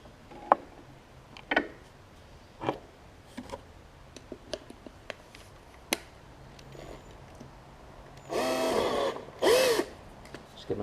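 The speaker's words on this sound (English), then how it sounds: "Just gonna take the bolts." Bolts being removed from a Murray rider mower deck with a power driver, two short loud whirring bursts near the end after scattered clicks and taps from handling the deck.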